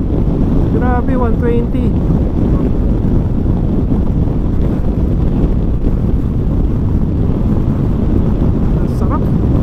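Constant heavy wind blasting across the mic while riding a Kymco Xciting VS 400 scooter at about 120 km/h on an expressway, a thick low roar throughout, with a man's brief exclamation near the start.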